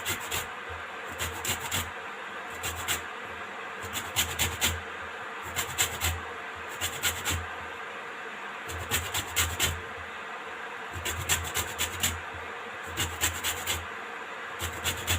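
Lemon rind rubbed against a grater for sugarcane syrup, a close rhythmic rasping in repeated bursts of quick back-and-forth strokes separated by short pauses.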